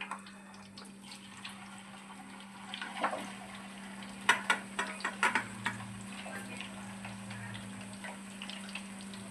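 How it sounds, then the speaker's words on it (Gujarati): Potatoes fry in a pan with a soft, continuous sizzle, while scattered scrapes and clicks of stirring grow busier in the middle. "આપણે હવે બટેટા તળી લઈશું"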